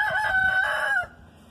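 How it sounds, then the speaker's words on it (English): A rooster crows loudly and close by in a single sustained call of about a second, trailing off into quiet outdoor background in a wild camping setting. "I'm cutting out the rooster crowing, because it gets really annoying"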